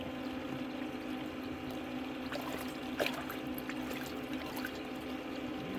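Water sloshing and splashing from a gold pan of black-sand paydirt being worked at the water's edge, a steady wet churn with brief louder splashes near the middle, close and continuous.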